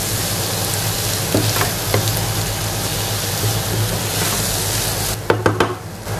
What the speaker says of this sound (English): Continue sauteing this until the raw smell of the ginger garlic is not gone away.